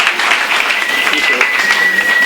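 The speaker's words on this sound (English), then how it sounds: "This is where you applaud wildly." Audience applause for author Sara Saedi, a steady wash of clapping from a seated crowd that holds through the whole stretch at an even level, with a faint tonal whine running underneath.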